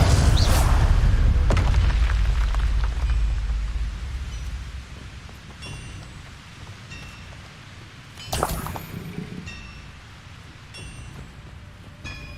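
A heavy spell explosion in the video game Hogwarts Legacy opens with a loud, rumbling boom that fades into a long, noisy decay, followed by a smaller blast later on.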